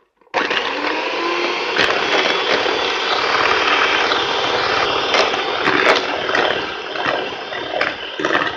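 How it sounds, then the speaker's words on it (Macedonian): An electric mixer beats eggs with sugar and a little vanilla sugar into a thick batter, starting abruptly with a steady loud whirring drone and occasional knocks of the beaters against the bowl, with no talking. "Матиме во густа смеса."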